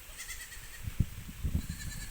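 A goat bleats a few times in short, close, wavering calls over a quiet outdoor background, with no talking.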